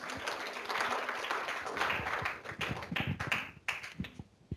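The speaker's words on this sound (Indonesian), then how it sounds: "Boleh beri tepuk tangannya Bapak Ibu?" Audience applause at a gender mainstreaming seminar in an indoor hall, a steady wash of clapping that thins out and ends in a few scattered claps.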